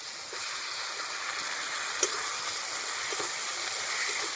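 Ginger-garlic paste along with poppy seed, mustard and dry chilli paste sizzling in hot oil in a pan over browned onion, a steady close hiss with a few soft clinks and stirring sounds.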